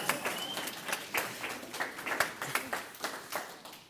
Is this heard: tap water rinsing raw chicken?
no